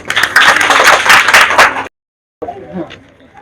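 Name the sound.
applause for a student's correct answer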